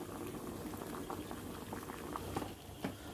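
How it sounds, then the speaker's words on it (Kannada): Four tomatoes in a pot bubble at a steady rolling boil, with continuous gurgling and popping close by, a few louder bursts near the end. "ಇಲ್ಲೊಂದು 4 ಟೊಮೆಟೊನ ಕುದಿ ಹಾಕೊಂಡೇನಿ ಸಾರಿಗೆ"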